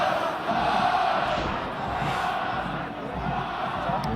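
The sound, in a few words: Connacht rugby crowd cheering their team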